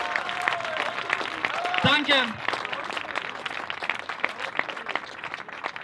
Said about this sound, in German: Deswegen bitte nochmal einen Applaus für die junge Linke.